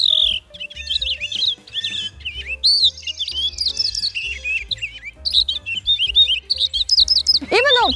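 A purple finch sings a rich, rapid warbling song of varied chirps and trills, loud and close, continuing without a break.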